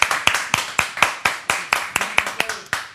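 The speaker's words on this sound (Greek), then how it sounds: "Χρήστο Μεσσηνιάτη, χειροκρότημα και πάμε!" Hands clap in a steady, even rhythm, about four claps per second, sharp and close, with no voices.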